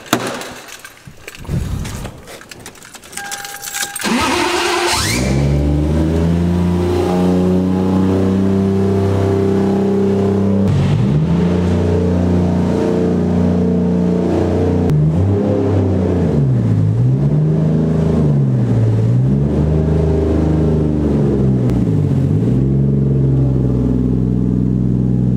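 A car engine starts with a few rough cranks and rattles, then settles into a steady idle, with its pitch rising and dipping as the car is driven and moved into a corner of a garage.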